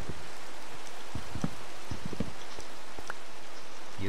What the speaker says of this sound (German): Hier unten regnet es.